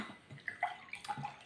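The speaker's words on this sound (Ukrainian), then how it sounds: "наливаємо собі ще третій стаканчик" iFresh mineral water with tropical fruit juice pours from a large bottle into a glass, a close gurgling splash with small bubbly plops and uneven glugs over about a second and a half.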